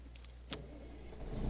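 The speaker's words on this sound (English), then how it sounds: "I'm going to fire up that engine. I just love how it sounds." Kenworth truck engine starting in the American Truck Simulator game: a sharp click, then a low, steady rumble that swells toward the end, with no talking.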